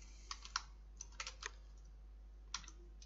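Username being typed on a computer keyboard while logging into a router console: a few scattered key clicks in short clusters, faint and close, over a steady low hum, with no voices.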